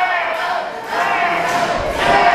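An indoor wrestling crowd at the Mid-Atlantic Coliseum roars and cheers for Damien Wayne, loud rolling swells of shouting voices rising in waves across the arena.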